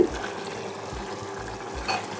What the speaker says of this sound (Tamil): நல்லா கொதி வருது